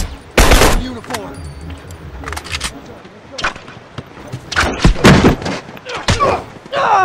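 Rifle gunfire in The Last of Us multiplayer, loud sharp bursts of shots in irregular clusters, close and punchy, mixed with excited talk.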